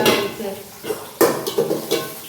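Onions cooking in a pan are stirred, giving a few close metallic clinks and scrapes of the utensil against the pan over a soft background hiss.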